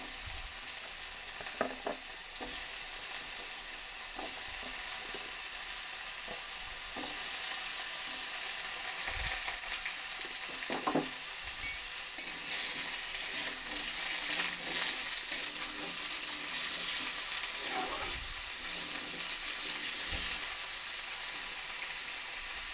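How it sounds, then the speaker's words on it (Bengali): Small diced potatoes fry in a pan, a constant bright sizzle running the whole time, broken by occasional stirring scrapes and clinks of a utensil. "আলুগুলো একটু ভাজতে হবে"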